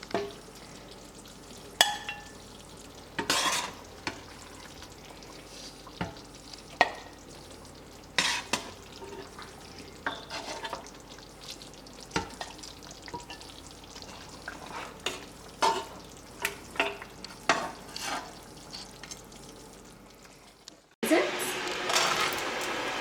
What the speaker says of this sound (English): don't fry it over 2 minutes. More than 2 minutes.